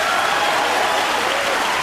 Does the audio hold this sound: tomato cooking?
no